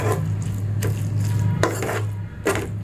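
A metal cooking pot holding a radish sabzi gets its lid set on, giving a few sharp clinks and clatters over a steady low kitchen hum, close and moderately loud, with no talking.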